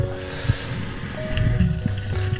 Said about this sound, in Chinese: 水上面有那个快艇经过